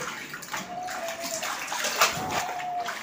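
Water sloshing and splashing close by as vegetables are washed by hand, a continuous wet churning with no break.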